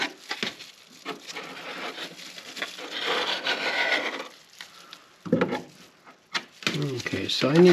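Scraping excess epoxy off fiberglass fillets while building a sailboat, rough rasping strokes at close range that come in uneven bursts with short pauses, and a voice speaks partway through.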